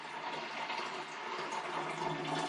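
Water running steadily into a Pinter home-brew keg, a continuous gushing fill heard up close with no talk over it.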